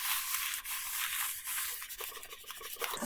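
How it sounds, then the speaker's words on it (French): A small clothes iron glides in circular strokes over cotton-linen mask fabric, giving a soft, continuous rubbing hiss for a few seconds, close and fairly quiet. "on vient poser le fer. Donc faut pas hésiter à faire des mouvements circulaires"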